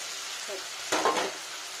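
A spice mixture with tomato paste and potatoes fries in a pan with a soft, steady sizzle, broken midway by one brief scraping stir.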